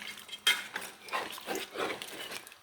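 A spoon stirring duck curry in a pot, with soft scraping and clinking strokes in an uneven rhythm, close and fairly quiet, no talking.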